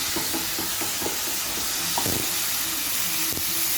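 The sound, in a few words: stirring coriander and mint into ridge gourd capsicum curry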